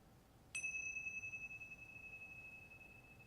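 A meditation chime struck once, its clear bright tone ringing out then slowly fading with a gentle shimmering wobble over a quiet background, heard alone.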